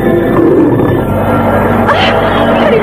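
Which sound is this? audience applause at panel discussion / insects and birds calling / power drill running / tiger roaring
tiger roaring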